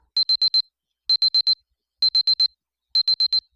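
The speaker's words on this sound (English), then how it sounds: "I find my watch alarm is going off." A wristwatch alarm in the visual novel I/O chirps in four even groups of four rapid high beeps, crisp and isolated against silence.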